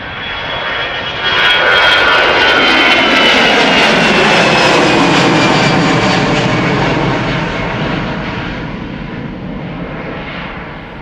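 A jet aircraft departs Schiphol's Polderbaan runway 36 left with the wind from the northeast, its loud engine roar swelling in after a second, holding strong, then slowly easing as it climbs away.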